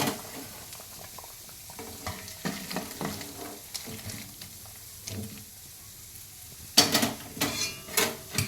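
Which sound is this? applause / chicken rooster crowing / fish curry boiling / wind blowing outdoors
fish curry boiling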